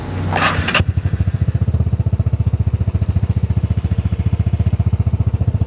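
A modified Vespa Sprint scooter engine runs through a Remus exhaust, starting with a brief burst of noise and then settling into a loud, steady, close-up putter of rapid even pulses.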